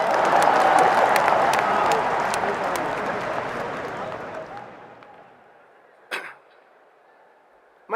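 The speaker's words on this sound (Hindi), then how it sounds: "ठोको ताली।" Audience applause at the 2018 Congress plenary session, a loud crowd clapping that slowly fades over several seconds, followed by a couple of isolated sharp knocks.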